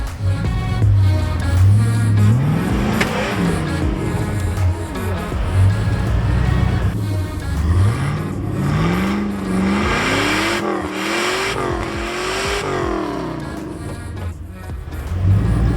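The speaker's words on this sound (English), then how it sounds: "Our front tires spinning? Try again." A Jeep on a snowy trail revs hard in repeated rising and falling engine surges while its front tires spin, loud and close, with a continuous droning motor throughout.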